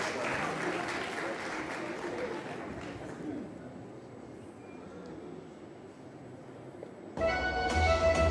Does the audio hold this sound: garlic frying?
no